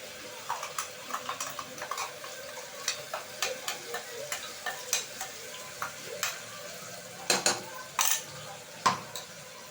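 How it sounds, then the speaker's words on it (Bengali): Onion frying in a pan with ginger, garlic and onion paste, a soft sizzle broken by a regular series of spatula scrapes and taps roughly every half second, fairly quiet and without talk. "আদা, রসুন, পেঁয়াজটা একটু মশলার সাথে আরও একটুখানি ভেজে নেব"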